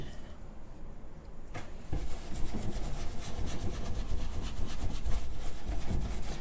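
A brush works wax and Dixie Dirt into painted furniture to give it an aged look. Its scratchy bristle strokes rub on continuously and grow louder and denser after a quieter start.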